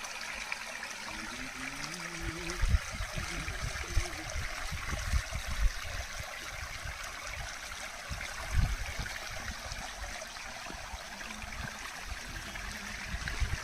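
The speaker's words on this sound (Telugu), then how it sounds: "అండ్ వాటర్ కూడా చాలా ఫోర్స్గా అయితే వెళ్తుంది." Cold mountain stream at Eravikulam National Park near Munnar rushing forcefully, a steady, fairly faint broadband wash of flowing water with a few slightly louder surges.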